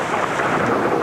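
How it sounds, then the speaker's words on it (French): Strong wind and a summer thunderstorm at the Oschersleben circuit during a 24-hour race, a loud broadband roar of gusting wind and heavy rain pressing on the microphone, brief and constant. "Beaucoup de vent, c'est le moins qu'on puisse dire."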